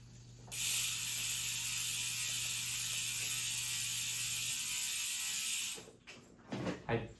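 Bicycle freewheel hub ticking steadily while the bike coasts, a fairly loud continuous buzzing ratchet for about five seconds, then fading into brief road and mechanical noises.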